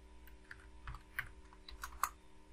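A handful of computer keyboard keystrokes, sparse and irregular taps close by as a dimension is entered, over a faint electrical hum with no talking.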